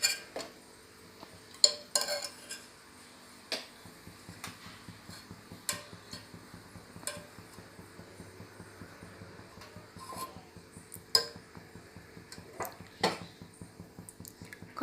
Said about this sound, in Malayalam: കുറച്ച് നെയ്യിടാം.